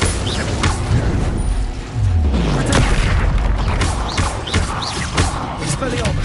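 An Incendio fire spell erupts as a loud, booming burst of roaring, crackling energy that fills the whole stretch, with shouted voices and further impacts layered within the dense din.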